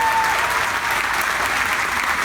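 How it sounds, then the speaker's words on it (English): A dense, loud wash of audience applause fills a grand opening ceremony at the National Medal of Honor Heritage Center in Chattanooga, greeting the family of Medal of Honor recipient Alvin York. "Give him an applause."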